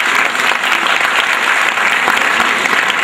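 A crowd at a Pasmanda Muslim community gathering at Ravindralaya claps loudly and continuously, a thick even wall of applause without pause.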